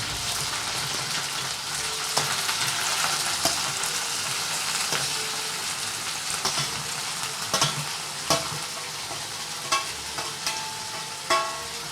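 Potato pieces frying in hot oil in a home kitchen pan, a steady bright sizzle with occasional sharp pops and crackles spread across the whole stretch, no talking.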